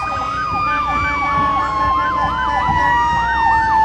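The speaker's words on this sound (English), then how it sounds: "We're starting to hear a lot of sirens going off." Wailing emergency sirens sweep up and down continuously at the Thunder Bay Parade of Lights, with a steady horn-like tone underneath, fairly close and loud.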